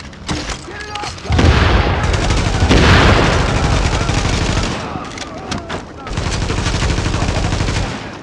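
Heavy, sustained automatic gunfire with booming impacts in The Division, a loud continuous barrage that dips briefly and then resumes, under players' voices.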